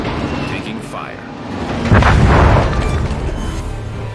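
Heavy booming shell hits strike a ship in the naval combat game World of Warships, a deep blast swelling midway and rumbling on over steady battle noise.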